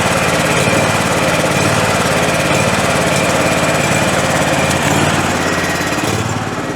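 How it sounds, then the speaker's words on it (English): Scag lawn mower engine running loud and close, a steady dense drone with a fast mechanical rattle throughout and no speech. "that's how good that mower is running"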